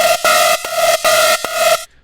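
Detuned saw synth patch in Serum run through diode distortion, a buzzy, harsh sustained tone played in four separate held notes with short gaps, ending abruptly into silence.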